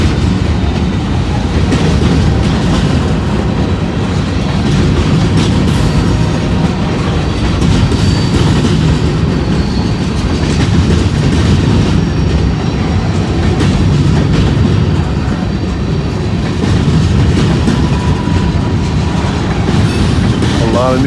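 A long freight train, running empty, rumbles past close by, with a continuous heavy roar and rhythmic clacking of wheels over rail joints.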